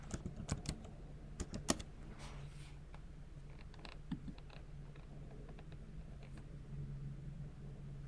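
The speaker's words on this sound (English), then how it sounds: "I'm just going to type in Atlantic and see if that shows up." Fingers typing a short word on a computer keyboard, a quick burst of crisp clicking keystrokes at the start, then sparse taps over a faint steady hum, close by with no talking.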